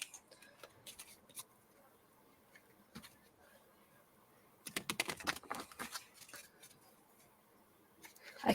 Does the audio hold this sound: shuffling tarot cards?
yes